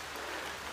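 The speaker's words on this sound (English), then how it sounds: "It's raining and I hear thunder." Rain falls on a mountain trail near the 3,500-foot marker during a hammock camping trip. It is a soft, even hiss, faint and continuous through a brief moment, with no voices and no distinct thunder.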